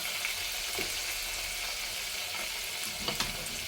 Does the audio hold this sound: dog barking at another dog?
no